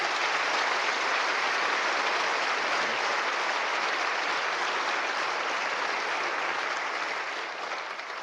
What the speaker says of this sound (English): maybe a round of applause as well.